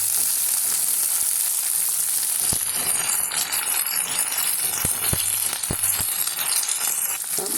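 Eggplant and drumstick pieces fry with a steady bright sizzle in a curry pan, with a few sharp clacks of a spoon against the pan. No talk.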